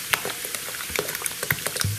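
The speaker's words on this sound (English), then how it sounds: "So let's just pour this to the full." Coca-Cola fizzing as it is poured into a glass, with a dense carbonated crackle and scattered pops and bubbles close up, no voices.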